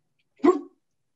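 A person imitates a stifled dog bark, a single short muffled woof-like burst lasting about a quarter second, close and alone in silence.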